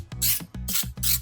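Baking spray from a can hissing into a brownie pan in three short bursts with brief pauses between, each a close, bright spray with a faint clicking at the nozzle as it starts.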